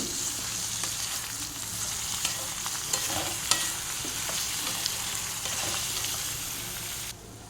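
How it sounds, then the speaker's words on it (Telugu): Chopped onion and tomato fry in a pan for a paneer curry, giving a steady, even sizzle throughout with faint scrapes and stirs and no talking. "ఉల్లిపాయ టమాటా కూడా వేసి కలర్ మారే వరకు వేయించుకోవాలి"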